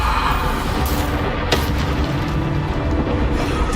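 A Bombarda spell goes off in Hogwarts Legacy as a dense, loud, booming blast that stays roaring and rumbling throughout, with a sharp crack partway through.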